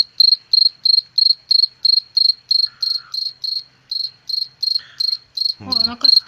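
A close cricket sings in a steady run of evenly spaced pulsed chirps, loud and alone, with a short voice cutting in near the end.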